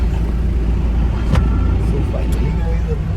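A car cruises along a seaside road toward Colombo in Sri Lanka, its engine and tyre rumble a loud, constant drone from inside the cabin.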